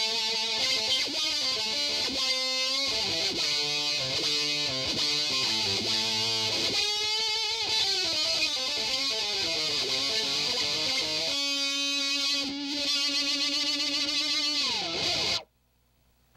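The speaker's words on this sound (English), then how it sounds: "it's a really crazy wah that you can do a lot with" Electric guitar run through an Electro-Harmonix HOG Harmonic Octave Generator synth pedal, thick stacked harmonic tones with sliding pitch bends and sustained notes, loud and continuous, cutting off abruptly at the end.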